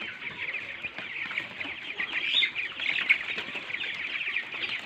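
A flock of broiler chickens clucks and chatters continuously inside a coop, a dense layered chorus of close and farther birds with no voices.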